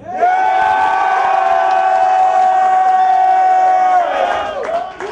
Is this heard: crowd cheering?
yes